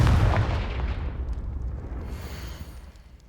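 Confringo fire spell cast in Hogwarts Legacy, a single loud booming blast at the start that rumbles and slowly decays over a few seconds.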